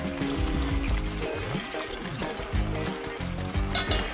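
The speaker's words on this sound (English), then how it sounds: "Let the chicken simmer uncovered, turn it over to coat well for a few minutes until the Vincotto is bubbling" Chicken pieces simmer uncovered in Vincotto with figs in a pan, giving a close, steady bubbling and sizzling with small splashy liquid sounds as the pieces are turned.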